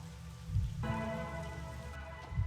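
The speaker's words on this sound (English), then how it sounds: "It's a gentle rain" Gentle rain falls steadily in the Rain Code detective game, a soft continuous patter joined by faint tonal game ambience partway through.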